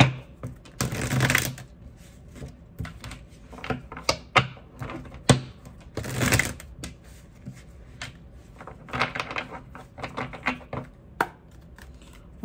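Tarot cards are shuffled and drawn in a quiet room: bursts of riffling and slapping card noise alternate with light taps and rustles, close and fairly soft.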